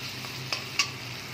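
Ginger garlic paste goes into melted tomatoes frying in a pan, giving a soft continuous sizzle with two quick stirring scrapes, close and without speech.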